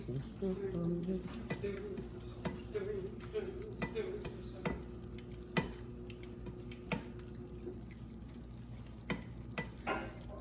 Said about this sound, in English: So we're just gonna keep stirring this. Just keep stirring.